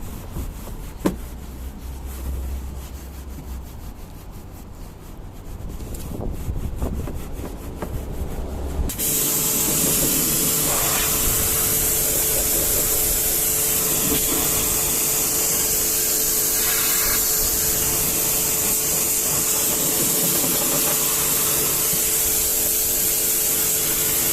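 Dirty wheel arches on an Audi, first agitated with an all-purpose cleaner in quieter scrubbing and rubbing, then blasted by a loud, continuous high-pressure water spray that starts abruptly and hisses steadily to the end.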